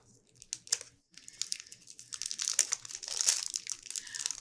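Close, crisp crinkling of a plastic lollipop wrapper being twisted and pulled, in bursts that grow busier and louder toward the end.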